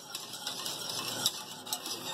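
A spoon stirs faluda mixture in a pot with quiet, continuous scraping and a few soft clinks against the metal, close by and with no voices.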